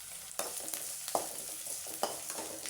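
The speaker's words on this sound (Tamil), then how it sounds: "பச்சை மிளகா வெங்காயம் மிளகு சீரகம் பாருங்கள் இஞ்சி எல்லாம் மொறு மொறு மொறு மொறுன்னு எண்ணெயில் போட்டேன்" Green chilli, onion, pepper, cumin and ginger frying crisp in hot oil, with a steady sizzle and several sharp stirring scrapes spaced through it, close by, no talk.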